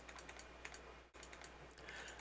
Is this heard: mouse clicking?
yes